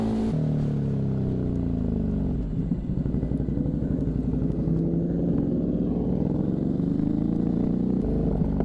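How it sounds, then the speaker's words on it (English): A Ducati Hypermotard SP motorcycle rides at speed, its engine droning steadily under heavy wind rush, with a shift in pitch and a rougher pulsing rumble partway through. "The wind is violent at these speeds on this motorcycle"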